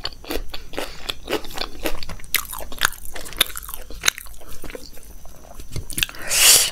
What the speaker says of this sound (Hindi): आलू के पराठे की बड़ी सी बाइट दही में डुबो के